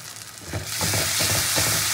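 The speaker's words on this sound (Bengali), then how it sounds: "দিয়ে এবার সব মশলা একসাথে খুব ভালো করে কষিয়ে নেব।" Cumin and coriander powder frying in a pan, a loud, close sizzle that swells after a quiet start and holds steady with dense crackling throughout.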